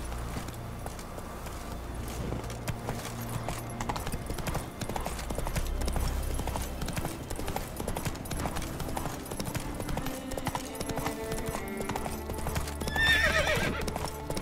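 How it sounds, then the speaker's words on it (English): Wild horses in the Witcher 3 video game, with steady clip-clop hoofbeats running throughout and a sharp neigh rising near the end, over a low game music bed. "Wild horses."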